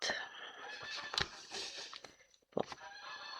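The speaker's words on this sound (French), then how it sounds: "Il y a les oies du voisin qui s'éclatent." A neighbour's geese in the countryside give quiet, scattered honks and squawks, fairly distant, with bursts of calls broken by short pauses.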